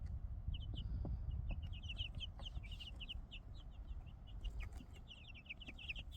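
Chicks or young chickens in a brooder give a steady stream of soft, high clucks and peeps, many overlapping calls spread across the whole stretch above a low rumbling background.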